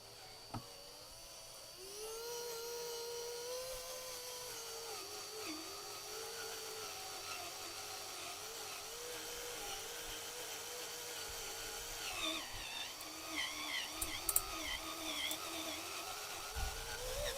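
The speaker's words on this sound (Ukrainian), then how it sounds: "включаємо на першу і пробуємо нарізати" A drill spinning a combination drill-tap bit from AliExpress on first speed, threading a hole: a steady motor whine from about two seconds on, with rising grinding and squeal near the end as the tap cuts. No talk.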